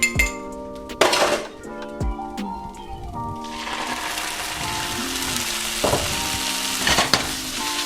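Liquid hits a hot pan with a burst of loud sizzling that settles into steady frying hiss, punctuated by clinks of pan and utensil as the contents are tossed.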